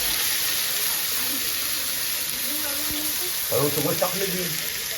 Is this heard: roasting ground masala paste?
yes